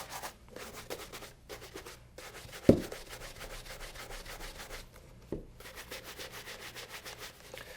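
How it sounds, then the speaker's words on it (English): A yak hair brush buffs excess polish and wax on new leather shoes, giving a soft, steady rubbing swish with a couple of sharper knocks, close and fairly quiet. "what we're doing here is we're just buffing off any excess polish and bringing those waxes to a shine"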